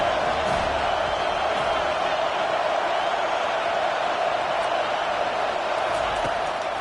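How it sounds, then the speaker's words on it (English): Football stadium crowd at an Arkansas vs. FSU game rallying behind the defense on third down, a dense, steady roar of many voices filling the whole stretch without pause. "Decibels rising as the crowd gets behind this defense on third down."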